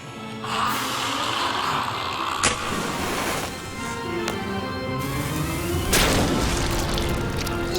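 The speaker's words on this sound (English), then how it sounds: "They pointed the cannon at the crowd and fired it" Cannon fired into a crowd in an animated horror special: a deep, heavy boom with sharp transient cracks and rumbling debris, loud and close, over a continuous low background.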